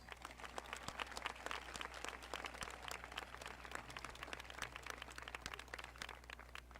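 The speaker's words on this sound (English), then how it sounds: "Let's give him one more round of applause." Sustained clapping from the crowd at a high school graduation, a steady, even patter of many hands throughout, heard from some distance in a large venue with no talking over it.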